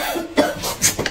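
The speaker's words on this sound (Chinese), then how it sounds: "你又咳嗽了" A woman coughs two or three times in quick succession, close and fairly loud, with short breaths between the bursts.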